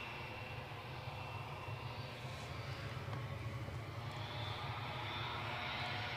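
A British Airways airliner rolls along the runway at Newcastle airport, its engines giving a steady, even roar that holds throughout at moderate distance, with a faint broadband hiss above and no one talking.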